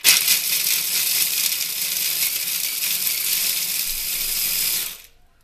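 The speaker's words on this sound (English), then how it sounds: "I have them in my food processor" Cocoa almonds being chopped in a food processor: a loud, continuous, gritty whir and rattle of blades and nut pieces for about five seconds that then stops abruptly.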